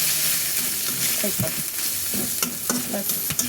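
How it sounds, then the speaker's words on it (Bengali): Sliced bitter gourd frying with ginger, garlic, turmeric and spice powder, stirred around a pan: close, continuous oily sizzle with brisk spatula scrapes and knocks against the metal. "একটু মশলা দিয়ে দিলাম, সব নাড়াচাড়া দিই।"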